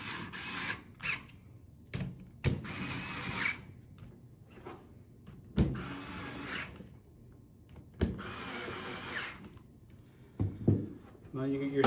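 A power tool tightens bolts on an OCTAGON PDR tool cart in several short bursts separated by quiet gaps, with a person talking between the bursts.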